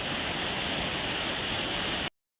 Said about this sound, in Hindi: अभी चौमास में यहाँ पे पानी आया हुआ है, वो भी बरसात की वजह से।